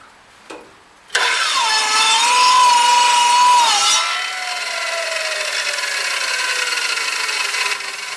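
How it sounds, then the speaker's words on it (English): A saw with a dull blade cuts a point on the end of a five-foot wooden length for a garden trellis. A steady, loud grinding whine starts suddenly, holds through the cut, then settles lower as the blade runs on. "I really need to sharpen that saw blade or get me a new one."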